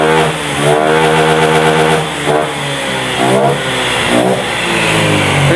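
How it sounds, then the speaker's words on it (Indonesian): An injected motorcycle engine, just after throttle body servicing, revs loudly and repeatedly up close, with three or four quick throttle blips rising and falling in a continuous, strong roar. "ternyata motor ini semakin enak, gasnya makin enteng ya, suara juga lebih teriak ya"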